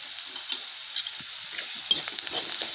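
Onion frying in oil with red chilli powder and turmeric for a homemade vegetable curry, giving a steady close sizzle with soft stirring clicks and scrapes scattered throughout.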